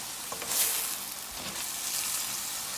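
Potato filling sizzles in a hot pan while a spoon stirs and turns it, a steady close frying hiss with a brief scrape near the start and no voices.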